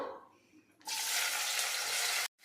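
Three finely chopped onions hit hot oil for chicken biryani, a sudden loud hissing sizzle that bursts in after a quieter moment, holds steady close up, then cuts off abruptly.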